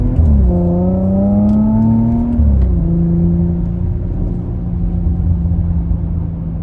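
A 2017 Porsche Macan GTS SUV engine pulls hard through a corner, a steady loud drone with harmonics that rise, dip as the revs shift, then settle into a sustained hum throughout.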